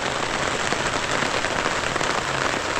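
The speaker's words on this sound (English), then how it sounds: "Well, the monsoon has arrived." Torrential monsoon rain pouring down at a remote campsite in rural West Virginia, a dense, steady hiss of drops drumming on surfaces, loud and continuous with no voices.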